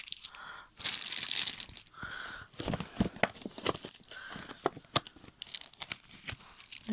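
Tape is torn and peeled off a cardboard gift box holding a baby kit, with repeated close, crinkly ripping bursts and soft rustling between them, fairly quiet overall.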